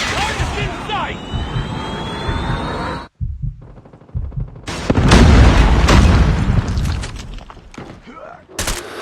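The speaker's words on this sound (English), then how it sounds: "Predator missile inbound" Call of Duty Mobile gameplay carries a jet-like rush that cuts out, a short quiet, then a heavy booming Predator missile explosion with a long rumble and debris, and game voice lines over it.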